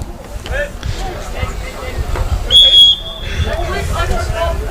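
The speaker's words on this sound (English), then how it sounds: "And that's a whistle." A referee's whistle gives a single sharp blast of about half a second during a men's high school soccer game, heard over crowd chatter, wind and a commentator's voice.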